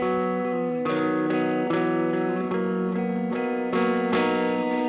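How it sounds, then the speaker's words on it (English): Sustained electric guitar chords, heavily distorted with echoing delay trails from iOS AmpKit effects, struck in a steady rhythm every second or so, loud and full with no voices. "I'll start adding back in some of these pedals. First the distortion, and then the delay"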